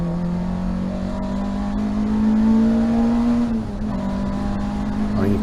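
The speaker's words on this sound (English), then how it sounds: "I'm still not over revving the engine" A race car engine at Rockingham circuit drones loudly from close by, holding a steady high pitch that creeps upward, dips briefly, then picks up again.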